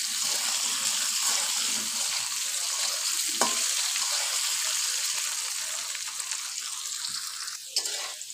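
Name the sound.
frying taro stolons in oil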